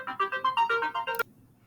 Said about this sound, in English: sorry for the phone ringing there.